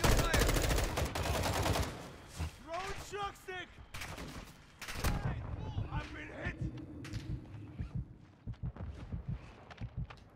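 Rapid bursts of automatic gunfire in the Warzone 2 DMZ video game, loud volleys crackling in the first two seconds and again around five seconds, with a voice talking between the shots.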